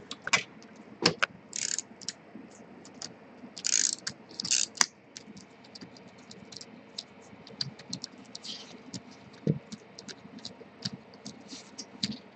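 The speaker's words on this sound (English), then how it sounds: "So you would simply remove those screws." A screwdriver backs screws out of the fuser unit of a Toshiba eStudio 857 copier, making faint clicks and ratcheting ticks with a few metallic rattles of loosened parts in between. The sounds are close and intermittent, with no one speaking.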